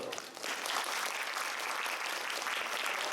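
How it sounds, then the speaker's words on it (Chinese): An audience at a 2016 Taipei International Book Fair book launch applauds Professor Corballis with dense, continuous clapping from a roomful of people, heard at a moderate distance and sustained evenly throughout. "用掌声再谢谢这个 Corballis 教授"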